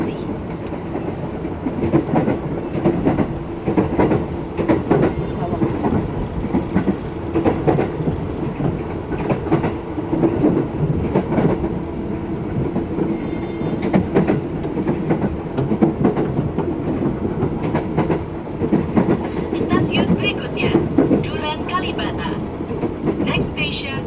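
KRL commuter train riding from Depok Baru to Juanda, heard from inside the carriage: a continuous rumbling roll with rhythmic clicking over rail joints and occasional squeals, while announcements and voices speak over it.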